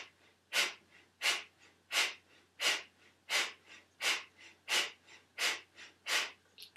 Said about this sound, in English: take a deep breath in, and you're going to exhale about a quarter, and then you'll begin pressing the breath out